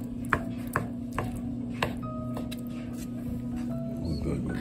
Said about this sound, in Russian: Вот так нарезаем, не очень мелко, чтобы чувствовалось на зубах